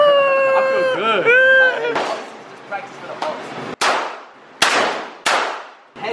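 A handgun fires several sharp, loud shots spaced about a second apart, following a stretch of people talking and metallic clicks.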